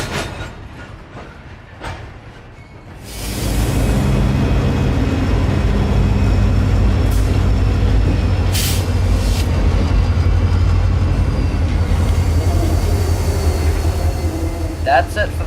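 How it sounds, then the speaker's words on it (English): Freight train cars clanking and banging into one another as the train begins to move, a sudden loud onset of heavy metallic rumble and clatter that continues steadily, with sharp impacts near the end. "This energy is converted via sound as each car hits another as they begin to move"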